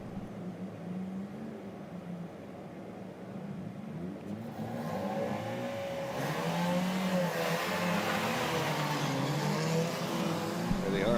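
Ford Zetec race cars roll into the pit lane at an Irish circuit race meeting with a low engine drone that builds halfway through into a louder mix of several revving, whirring engines passing close by.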